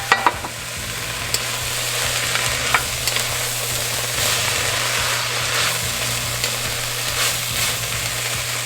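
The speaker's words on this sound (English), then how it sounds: "I'm gonna go ahead and add our beef and pork mixture back in." Beef and pork mixture for chili sizzling in a Dutch oven with vegetables, a loud, continuous frying hiss with occasional scraping stirs and a low steady hum underneath.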